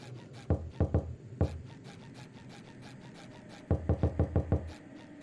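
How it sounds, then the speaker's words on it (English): Knocking on a wooden door in a SpongeBob horror video game: two quick bursts of three to five firm knocks, then a longer run of about six knocks, close and distinct over a low background hum. "Maybe I'm not supposed to knock on the doors."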